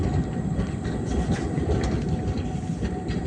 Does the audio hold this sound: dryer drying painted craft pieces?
no